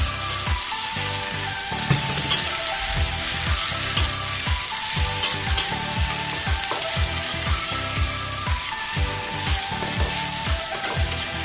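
Onions fry in a pan with a constant loud sizzle, while rhythmic low knocks of stirring against the pan repeat throughout, close up and with no talking.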